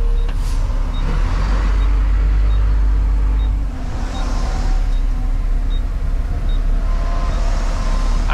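A truck backing out of a gated spot, its engine grumbling low and steady up close with a hiss of air brakes and faint intermittent reversing beeps, no voices over it.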